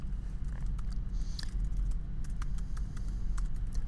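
Fast, steady typing on a computer keyboard while entering a web address, soft clatter of keys running continuously over a low background hum, no voice.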